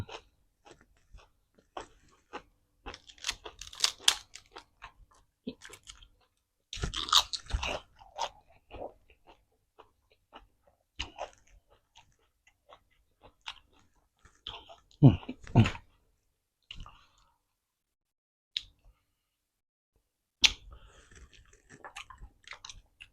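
Close, crunchy chewing and biting of spicy Lao blood larb eaten with rice and fresh raw vegetables, in irregular bursts with short pauses between mouthfuls.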